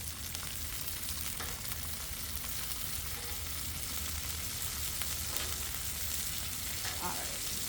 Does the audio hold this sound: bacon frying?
yes